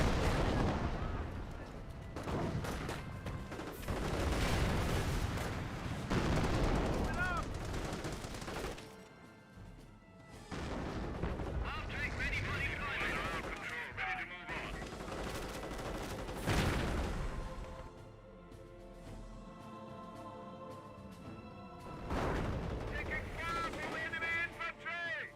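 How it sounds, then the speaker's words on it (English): Anti-tank guns firing on a Panther tank in the World War II strategy game Company of Heroes, with repeated heavy booming shots and explosions over battle noise, under a fast-talking commentator. "Panther getting peppered up by the AT guns."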